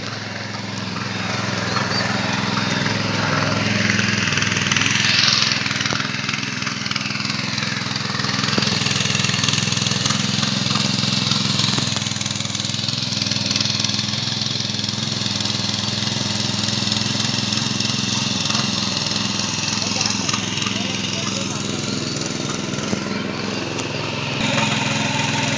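A tractor ploughing a flooded paddy field in Konkan, its engine droning steadily and close throughout, mixed with broadband rumble and churning noise and no clear speech.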